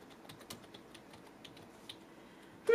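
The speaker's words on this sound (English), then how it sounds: "let's type in food pantry." A search being typed on a computer keyboard, a quick patter of light, close key taps in an uneven rhythm, ending with a louder thump, with no one talking.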